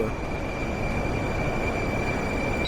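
A Tashkent metro train runs with a steady, close rumble and a thin, constant high whine, heard from inside with no voices.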